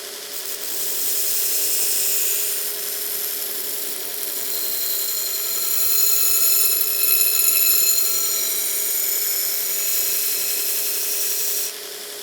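A grinder removes metal to set the bevel on a knife blade forged from a railroad spike, a loud, continuous high-pitched whine and hiss with a faint ringing tone, steady throughout and ending abruptly.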